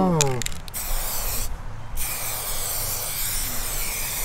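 A close aerosol hiss from a spray can painting into a hydro-dipping bath sprays steadily, pausing briefly before resuming, with a short rattling noise at the start.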